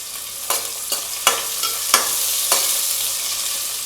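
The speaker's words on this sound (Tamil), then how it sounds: "இந்த வெங்காயத்தை நல்லா வதக்கிடலாம்." Chopped onions and green chillies sizzle in hot oil in a pan for a spicy Tamil crab curry, as a spoon stirs with about six sharp scraping strokes over a constant crackle.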